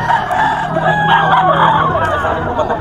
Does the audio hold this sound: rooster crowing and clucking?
yes